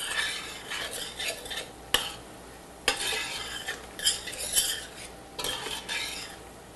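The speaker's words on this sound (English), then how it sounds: "Give it a little stir." A spoon stirs Italian seasoning into a pot, soft scraping swirls punctuated by a few sharp clinks of metal against the pot, close and fairly quiet.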